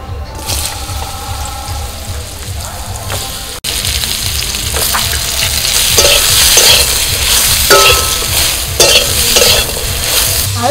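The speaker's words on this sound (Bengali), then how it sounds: "আলুটা ভাজা হলে এবার ঝিঙেটা ভেজে নেব।" Ridge gourd fries in hot oil in a kadai wok. A loud, steady sizzle swells after a brief cut, with intermittent scraping and clinking as a spatula stirs and turns the pieces.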